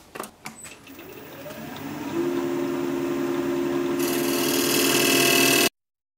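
Wood spinning on a lathe while a gouge cuts it: a few sharp knocks at first, then a steady rising whine and hum that swells louder and brighter and keeps running until it stops abruptly.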